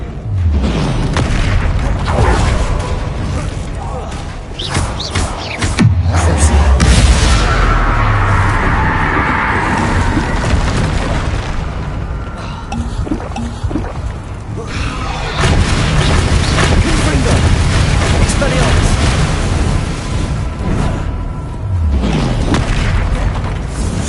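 Repeated Confringo fire-spell explosions in the PS5 game Hogwarts Legacy during a fight near a troll, loud booming blasts and crashes that come one after another over continuous battle noise with no pause.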